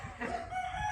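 A rooster of strong, high-quality stock crows at a rural camp, one steady loud call filling the moment with no talk over it.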